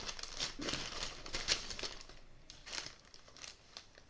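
Pink wrapping paper with little stars crinkles close up, a steady run of quiet, crisp rustles and crackles with a few sharper crackles in between.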